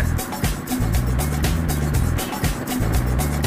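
A modified 2006 Suzuki Boulevard M109R cruiser motorcycle heard on the ride, a deep, loud engine drone pulsing with repeated throttle swells and wind rush, recorded close up from the rider's position.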